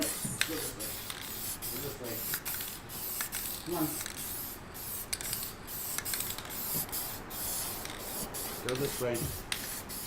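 Short hissing bursts of an aerosol can spray repeatedly in an indoor, well-ventilated workspace during alcohol ink painting, some near and sharp, others softer, with people talking briefly in between.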